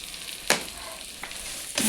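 Spices fry in a hot pan with a steady sizzle after turmeric powder is added, interrupted by a few sharp scraping stirs, close up and with no talking.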